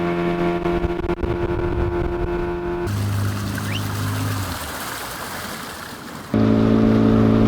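A motor launch's engine drones loudly and steadily with wind and water rushing past, heading to Livingston, Guatemala, the engine note shifting pitch partway through before surging again.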